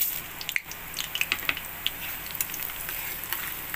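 Whole spices (bay leaf, dried red chillies, cloves, green and black cardamom, cinnamon, cumin) frying in oil over a very low flame for egg masala curry, giving a soft, steady sizzle with scattered small crackles and pops.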